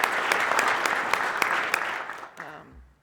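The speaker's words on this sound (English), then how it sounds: "So just a round of applause to show our appreciation" Audience in a meeting room clapping in appreciation at the end of a 2020 Census program management review, brisk clapping that thins out and fades near the end, with a brief voice as it dies away.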